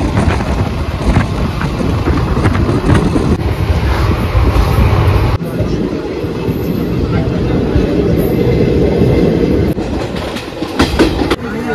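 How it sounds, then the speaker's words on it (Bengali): A passenger train runs at speed out of Howrah, heard from inside the compartment: loud continuous rumble with rhythmic clickety-clack of wheels and wind buffeting, a brief dip midway, no clear talk. "হাওড়া থেকে ট্রেন ছেড়ে দিয়েছে, এখন আমরা কম্পার্টমেন্টের মধ্যেই রয়েছি।"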